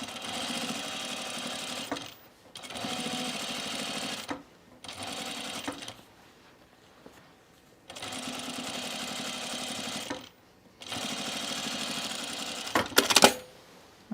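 A sewing machine top stitches a dress in several steady whirring bursts separated by short pauses, close and clear, with a brief sharp clatter near the end.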